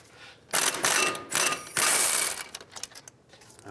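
Ratchet wrench loosening a caliper bracket bolt on the front brakes of a 2002-06 Toyota Camry, a few bursts of close clicking ratchet strokes followed by quieter fading clicks, no voices.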